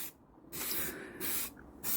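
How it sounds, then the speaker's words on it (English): Black spray paint hissing from an aerosol can onto a carved rock, in three close bursts separated by short pauses. "So I'm just giving it a bit of black spray paint"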